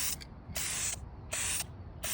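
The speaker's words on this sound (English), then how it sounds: "I just sprayed the last coat" Spray paint hisses onto Toyota Supra SRS parts for a matte black finish, in three steady bursts of about half a second each, close and fairly loud, with short quiet gaps between them.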